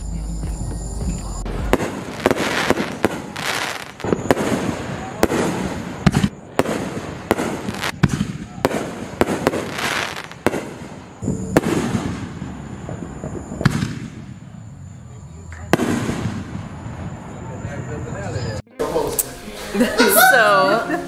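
Fireworks bursting outdoors on a July night, a long run of loud, sharp booms and crackles at an irregular pace, with a few brief pauses and a quieter stretch, while people chuckle and talk in the background.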